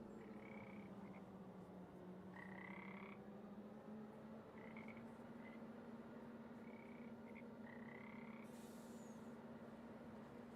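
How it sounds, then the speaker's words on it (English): Frogs croak repeatedly in short, chirpy calls near lily pads in the Farming Simulator 25 video game, over a steady low ambient hum, faint and with no talking. "I like the frogs you can hear, and the lily pads"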